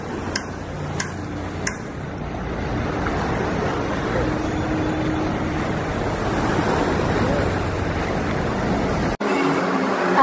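Ocean water washes in at high tide, a loud continuous surf roar with a few sharp ticks near the start and a brief drop near the end.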